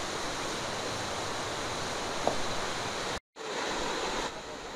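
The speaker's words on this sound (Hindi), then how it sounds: "पानी गिरने का" The Kundal Shahi waterfall in Neelam Valley, Azad Kashmir, roars as a steady, dense rush of falling water, close and unbroken apart from a brief cut near the end, with no voices.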